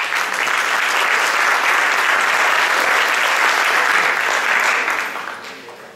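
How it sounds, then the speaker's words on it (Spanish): An audience at an evening conference session breaks into sustained applause welcoming an architect to the stage, a dense steady clapping that fades out near the end. "Recibimos con un aplauso entonces al arquitecto Luis de las Casas Orozco."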